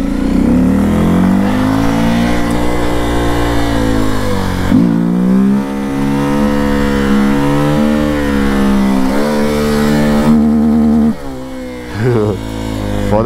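Honda XRE 300 motorcycle engine revving hard during stunt riding practice, sustained high-pitched howl rising and falling through repeated throttle blips, loud and close with brief dips between bursts.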